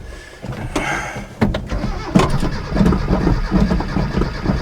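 A Chevy Luv truck engine cranks briefly with a couple of sharp clicks, then catches and settles into a rough, steady idle close by.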